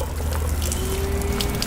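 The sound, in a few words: water dumped out of a water filter housing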